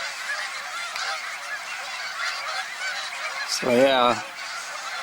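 Geese honk at an Ogilby BLM campsite, a soft chattering flock in the background, then one loud, close honk near the end, with a brief voice speaking.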